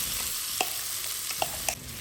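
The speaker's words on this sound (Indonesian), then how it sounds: "Panaskan minyak goreng, saya pakai minyak goreng sisa menggoreng ikan keting yang tadi. Tumis dulu bumbu rica-ricanya." Rica-rica spice paste stir-fried in hot cooking oil previously used to fry keting fish, with a steady soft sizzle broken by a few sharp scraping stirs of the spatula.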